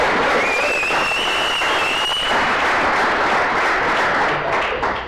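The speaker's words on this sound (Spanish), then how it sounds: "¡Un aplauso, venga!" A crowd claps loudly and continuously, with a high whistle cutting through the applause near the start.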